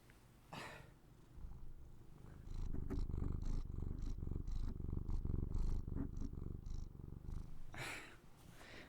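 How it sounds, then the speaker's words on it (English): A cat purrs close and steady in a quiet room, the rumbling building up midway and easing off near the end, with a couple of brief sniffs or breaths. "That was a good purr right there."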